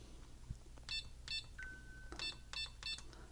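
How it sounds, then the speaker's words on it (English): Short electronic beeps from the small built-in speaker of a vintage Fultron graphic equalizer, about six quick bright tones in uneven groups, quiet with a faint hum underneath. "So you can turn it up and turn it down and it'll beep."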